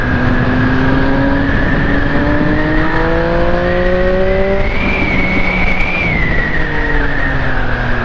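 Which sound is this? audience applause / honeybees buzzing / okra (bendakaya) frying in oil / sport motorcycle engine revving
sport motorcycle engine revving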